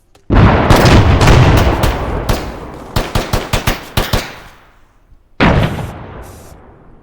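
Gunfire and grenade explosions during platoon training in a military shooter game: dense, loud rattling bursts of automatic fire with heavy blasts, then a string of separate sharp shots, a brief lull and another loud burst.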